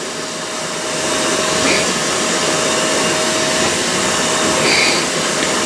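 A Shark StainStriker HairPro Pet portable carpet cleaner (PX251) suctions a pet bed with a loud, steady whirring motor drone and a thin whine, continuous throughout with no talking.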